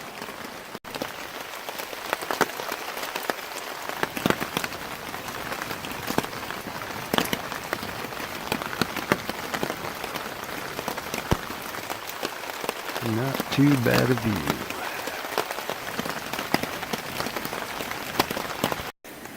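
Rain patters steadily on leaves and ground in the woods around a hammock, a dense crackling hiss that continues throughout while someone speaks briefly.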